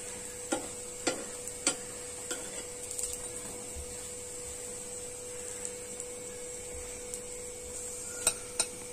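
Sweet potato tikki frying in oil in a pan after being turned, with a soft, quiet sizzle under a steady hum and several sharp utensil taps spaced irregularly, close by and with no talking.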